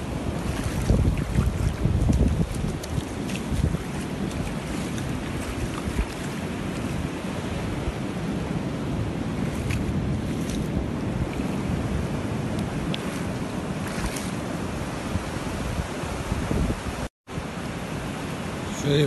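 Ocean waves rolling onto the beach at Mar de Ajó under steady, buffeting wind noise on the microphone, a continuous loud roar of surf and gusts with no talking.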